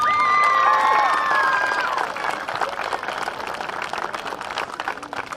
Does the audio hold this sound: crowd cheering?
yes